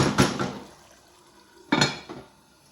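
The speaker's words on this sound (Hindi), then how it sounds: "यहाँ पे 5 मिनट अभी हुए हैं, तो ऐसे एक दफा आप चम्मच बीच में चला दें" A metal spoon stirs chicken in a cooking pot, giving two distinct scraping clanks against the pot about a second and a half apart, close and clear with quiet between them.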